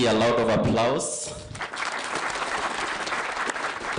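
An audience at a Kenya Institute of Management graduation ceremony applauds the Vice Chancellor, a broad round of crowd clapping rising after a speaker's voice at the start.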